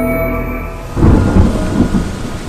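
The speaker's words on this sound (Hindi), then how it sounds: "आज तेज बारिश हो रही थी।" Thunderstorm with heavy rain: a steady downpour hiss with low thunder rumbling in around the one-second mark and continuing in rolling swells, loud and close, with no voices.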